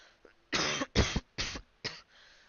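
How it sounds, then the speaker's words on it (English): Four harsh coughs come in quick succession, close and fairly loud, with a brief faint breath before them. "that cough probably sounded really bad in camera or in mic"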